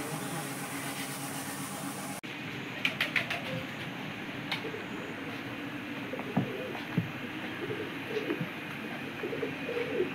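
Pigeons coo repeatedly over a steady low hum at a fish aquarium outing, soft throaty calls at middle distance, with occasional faint clicks and no clear talk.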